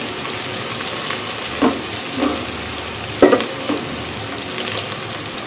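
A mixture of rice and green chillies for coconut rice sautés in a pan with a steady frying hiss. A utensil scrapes through it in a few spaced stirring strokes.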